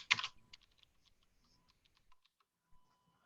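A location is typed on a computer keyboard: a louder first burst of key clicks followed by sparse, quiet, irregular taps, close and alone with no voice.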